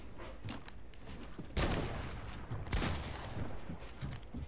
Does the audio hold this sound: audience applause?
no